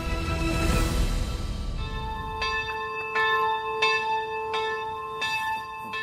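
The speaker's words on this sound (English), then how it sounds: "The bell on the St. Procopius Church calls all Catholics of the city of Žďár nad Sázavou for evening prayers." The bell of St. Procopius Church in Žďár nad Sázavou, Czechia, rings for evening prayers in several slow, evenly spaced strokes, each tone lingering and overlapping the next, after a brief burst of broadband noise at the start.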